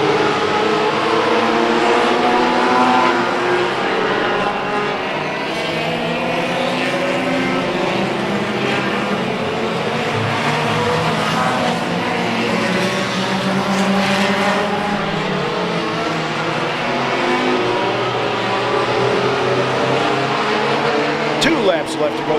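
Race cars roar around a track during a Mid-Am night feature race, their engines droning and shifting pitch as they pass in a continuous loud stream. Commentary carries on over the engine noise.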